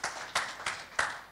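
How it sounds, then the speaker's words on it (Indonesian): A church congregation at a service in a hotel gives a short round of applause, with a few separate claps spaced evenly in a quiet room. "Berikan tepuk tangan nih buat Tuhan Yesus."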